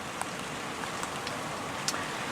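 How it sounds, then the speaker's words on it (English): Light drizzle falls steadily outdoors beside a fishing pond, a soft continuous hiss scattered with faint, sparse droplet ticks. No voices are heard. "I don't really want to go out in that shit drizzle."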